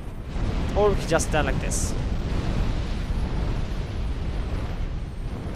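Dragon breathing fire in Dark Souls 2, a broad, sustained roaring rush of flame that fills the background evenly from start to finish, with someone speaking briefly near the beginning over it.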